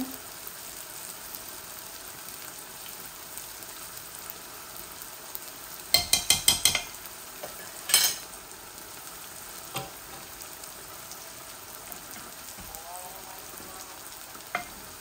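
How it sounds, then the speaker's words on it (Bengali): Meat and potatoes frying in a pan, a steady close sizzle broken by a quick burst of sharp scraping stirs and a few later clinks of the spoon against the pan, with no voices. "আমার মিটগুলা খালি বনমু আর মাখা মাখা করিয়া আলু দিয়ে রান্ধিমু"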